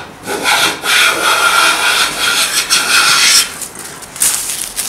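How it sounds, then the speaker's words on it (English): A Chaplin patent hand plane takes a thin shaving from a wooden board, producing several loud, close hissing strokes with brief pauses between them. "Didn't quite get the whole length of the board, but it's a nice thin shaving"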